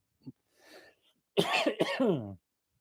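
A single throaty cough close to the microphone, preceded by a small click and a soft breath, then silence.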